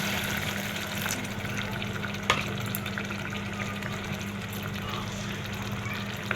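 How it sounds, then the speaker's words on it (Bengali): Water pours steadily into a pot of simmering curry, a continuous even wash of splashing under faint kitchen background, with one sharp knock partway through. "পরিমাণ মতো জল দিয়ে দিলাম।"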